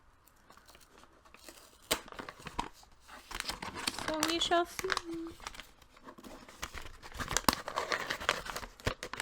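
Wrapping paper crinkles and rips in short bursts close to the mic as it is torn off a book, with a person talking over much of it.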